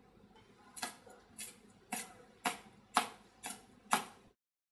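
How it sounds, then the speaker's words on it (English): A knife slicing halved lemongrass on a cutting board gives six crisp, evenly spaced cuts about half a second apart, close and fairly quiet, then stops. "We halve the lemongrass and we slice them like that."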